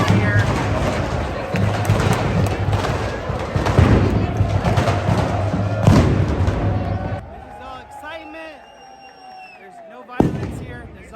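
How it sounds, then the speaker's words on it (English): Fireworks set off by excited football fans, several sharp bangs bursting through loud, dense crowd noise and shouting, then a quieter stretch broken by one last crack near the end. "They got a hold of some fireworks."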